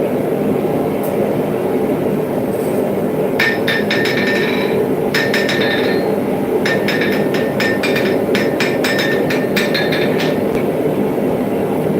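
Hammer blows ring out on an anvil sitting on a newly built stand, coming in irregular bursts of bright metallic strikes over a constant loud background rumble, close by.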